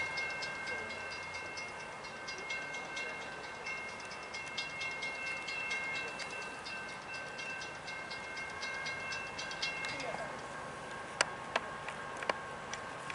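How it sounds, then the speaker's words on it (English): A northbound manifest freight train passes on track one at Folkston, Georgia, with a steady distant rumble, rolling wheel noise and scattered clicks and squeals from the cars, moderately faint throughout. "here comes another train, northbound by Folkestone, Georgia, on the number 1 track at a northbound manifest"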